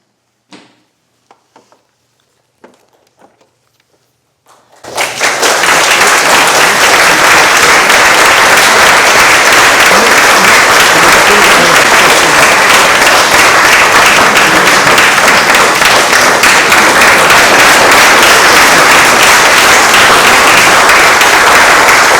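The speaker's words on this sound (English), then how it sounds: "a well-deserved round of applause for Anne, Lisa Reardon." Loud, sustained audience applause fills a room at a community event, a dense wash of clapping that bursts in after a few seconds of scattered quiet knocks and continues steadily to the end.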